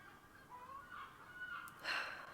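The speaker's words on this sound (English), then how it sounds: "Sorry about the seagulls cackling away there." Seagulls cackling outside, faint rising calls and a sharper squawking burst near the end, heard distantly through a quiet indoor room with no talk.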